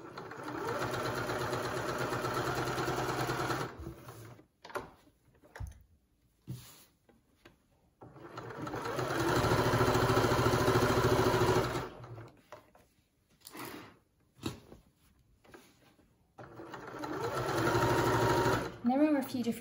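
A sewing machine stitches a fabric pocket bag around a curve, running in long steady whirring bursts with pauses in between as the fabric is swivelled, and a voice talking over the gaps.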